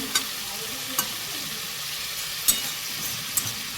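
Potatoes stir-fry in a pan, a steady close sizzle with several sharp scrapes and clinks of a spatula against the pan at irregular intervals, no talking.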